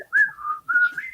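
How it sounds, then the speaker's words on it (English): A person whistles a Seven Dwarfs song up close, with two sustained, slightly wavering phrases separated by a brief pause. "it's a little pitchy there, but I'm not a good whistler"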